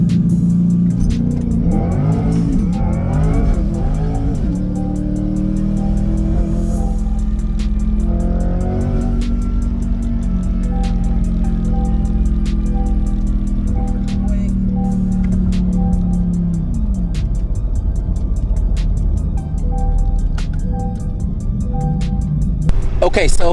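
Twin-turbo C8 Corvette E-Ray pulling hard off the line on a race track, with a loud, continuous engine roar and rising then falling pitch through several gear changes, heard close from inside the car.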